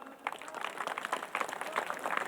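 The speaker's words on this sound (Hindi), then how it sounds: "इतनी कम तालियां?" Scattered, modest clapping from an audience at the Lokrang 2022 cultural program, a light continuous patter of many hands at middling distance.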